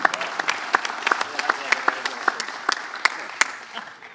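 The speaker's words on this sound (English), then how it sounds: "Round of applause for Stephanie Rawlings-Blake" Scattered applause from an audience for Baltimore Mayor Stephanie Rawlings-Blake at a community policing forum, a thin spread of individual claps with distinct sharp hand strikes rather than a dense roar, moderately close.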